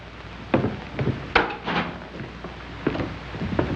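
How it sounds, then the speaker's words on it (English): A door in a house opens amid a string of wooden knocks, clicks and rattles, several sharp near thumps spaced irregularly over a few seconds, with no one talking. "Riley, take the door."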